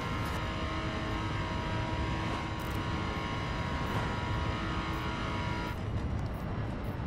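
A car drives steadily in The Crew, its engine a continuous droning hum with a sustained tone. It stays near and even throughout, with faint extra whooshes at times.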